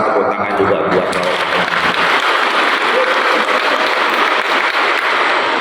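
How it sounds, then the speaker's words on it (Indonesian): A crowd at a Golkar party meeting in Pematang Siantar applauds a speaker with loud, sustained clapping that fills the room without a break for several seconds. "Jadi terima kasih buat Pak Ngatas, tepuk tangan juga buat Bapak."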